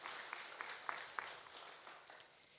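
A church congregation at a Kikuyu Sunday service gives a faint, sparse round of applause, a few distinct claps in an even rhythm that soften and trail off.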